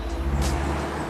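Road traffic beside a small pocket forest in London, a continuous low rumble of cars with one passing swell, moderately near and steady, no talk.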